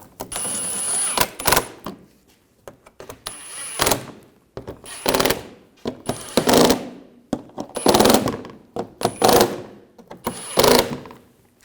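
A power tool tightens the lower center splash shield fasteners on a 2007-2013 BMW 328i in about six short, sharp mechanical bursts separated by quiet gaps, fairly close and without speech.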